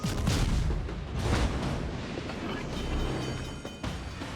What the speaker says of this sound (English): You are fortunate that the North Carolina is shooting HE right there.